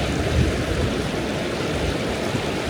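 Steady broadband rush of a rain-swollen river flowing over boulders during a barefoot crossing on a hike in Australia, continuous and close, with no distinct footsteps or splashes standing out and no voices.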